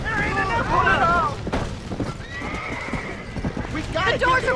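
Horses whinny repeatedly in a burning barn in Red Dead Redemption, their panicked neighs rising over clattering hooves, crackling fire and shouting voices.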